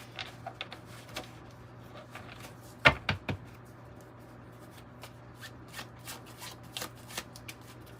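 Tarot and oracle cards being shuffled by hand: soft, dry riffling and tapping in irregular bursts, with one sharper snap partway through, close and quiet in a calm room.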